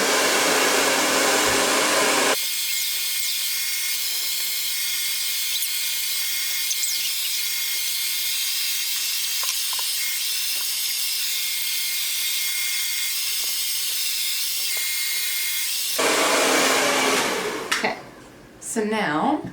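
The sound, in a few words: hair dryer on hot, high setting, blow drying hair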